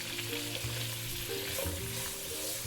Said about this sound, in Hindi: ये आलू हम करेंगे फ्राई